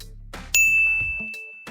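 A single sharp bell ding sounds loud and close, its pure ringing tone hanging and fading slowly while a few soft knocks and clicks continue around it.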